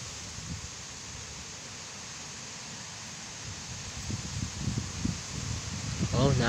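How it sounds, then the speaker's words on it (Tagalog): Strong wind gusting on a grassy mountainside, a steady broadband rush that swells louder toward the end, with faint low buffeting against the microphone. "Oh, lakas ng hangin oh."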